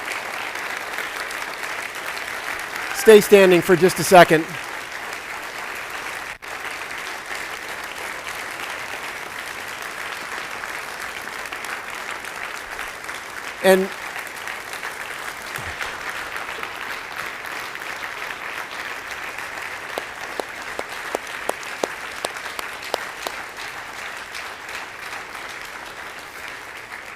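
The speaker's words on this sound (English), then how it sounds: "can we give our veterans a round of applause?" An audience applauds veterans at a Memorial Day gathering, with a short burst of clapping early on, then a faint crowd murmur and scattered claps later, while someone speaks over a microphone.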